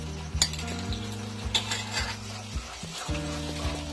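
Cornflour slurry and tomato sauce stirred together with a spoon, giving soft scraping swirls and a few light clinks against the bowl, over a steady low background hum.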